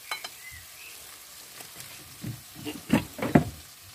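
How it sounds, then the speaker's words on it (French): Onions and herbs frying in olive oil in a tagine, with soft crackling and sizzling that grows into louder spits and pops toward the end. "on va remettre un peu d'huile d'olive et on va y mettre les oignons avec les herbes"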